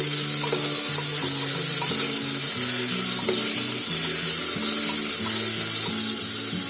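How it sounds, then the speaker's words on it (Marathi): Cashews and tomatoes sizzle and crackle steadily in a hot pan as they are stirred for a masoor lentil pulao, a continuous close frying hiss with music playing underneath throughout. "टोमॅटो टाकले. आता काजू टाकते आणि चांगलं ढवळून घेते."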